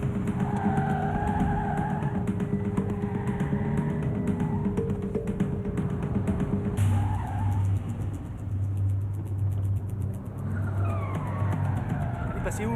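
A car driven fast and recklessly in a French drama scene, with a continuous engine roar and drawn-out tire skidding up close, mixed with other background sounds.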